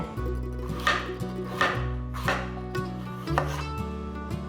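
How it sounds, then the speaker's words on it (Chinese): A peeled carrot sliced with a knife on a cutting board, a series of about five crisp, evenly spaced chops close and clear over a sustained musical tone in the background. "把红萝卜切片"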